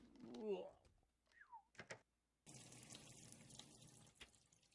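Water runs from a tap in the point-and-click adventure game Deponia, a steady splashing stream that starts midway after a few short vocal squeaks and chirps.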